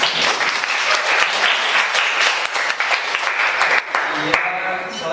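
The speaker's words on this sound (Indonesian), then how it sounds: "Kita berikan aplaus untuk kita." A class or teacher-training session breaks into sustained applause, loud and dense, with many hands clapping steadily for about five seconds and a few voices mixed in.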